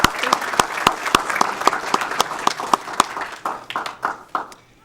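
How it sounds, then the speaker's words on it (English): Applause at a Federal Way city council meeting: a modest group claps with distinct, sharp individual hand claps audible in an irregular rhythm, thinning out and fading toward the end. "let's give her a big round of applause"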